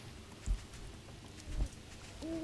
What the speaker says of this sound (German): Das Pferd also hört sich ein bisschen an wie der Fledermaus, finde ich.